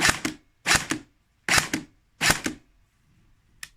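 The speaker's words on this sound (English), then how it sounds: "Another thing, the electric blowback system." ICS CXP UK1 airsoft gun with electric blowback firing four quick close bursts, each a pair of sharp mechanical clacks, evenly spaced, then a single faint click at the end.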